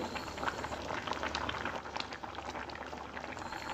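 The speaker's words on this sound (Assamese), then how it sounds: "আৰু খুব বেছি মই 2 ছেকেণ্ডমান উতলিবলৈ দিম।" Borali fish curry bubbling in a pot near the end of cooking, giving a steady, close, busy simmer of popping bubbles that runs throughout with no talking.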